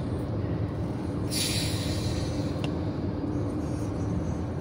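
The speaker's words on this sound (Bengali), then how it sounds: "ও গুডস ট্রেন না? ও চলে গেল।" A passing goods train heard from a moving car: a steady loud rumble of wheels on rails, with a brief hiss partway through. No speech.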